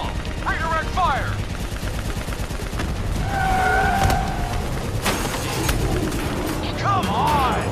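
Continuous loud gunfire and machine-gun bursts in a Call of Duty: Black Ops 3 battle, with vehicle and aircraft rumble underneath and shouted voices cutting in over the shooting.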